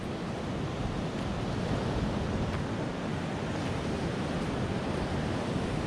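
Steady roar of surf as waves wash up on a misty Newfoundland shore, a continuous broad wash of water and wind noise with no voices.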